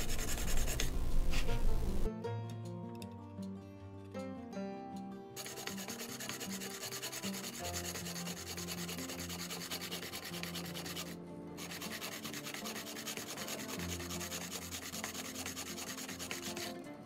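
A wooden plow plane part is rubbed flat on a ceramic tile, producing continuous close scraping and grinding strokes that run steadily throughout.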